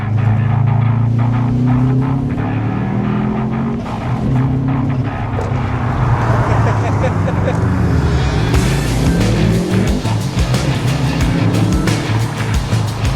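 A car drives at night, its engine and road noise a steady loud rumble throughout, with people talking over it.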